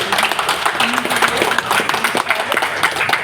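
A crowd claps briskly and continuously, with a faint voice under the applause.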